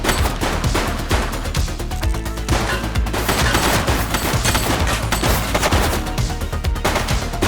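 Dense, sustained gunfire from a police video game, The Precinct, with rapid overlapping shots and bursts filling the whole stretch at a steady, loud level and no speech.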